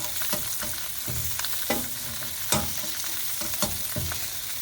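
Ham-wrapped Belgian endive rolls browning in a hot pan give a steady broadband sizzle, with occasional louder clicks and scrapes as they are turned, close and alone with no voices.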